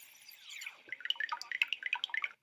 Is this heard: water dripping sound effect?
yes